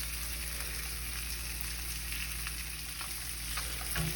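Fish crisping in a hot pan for tacos gives a continuous loud, even sizzle with scattered pops, close and unbroken, and a brief bump near the end.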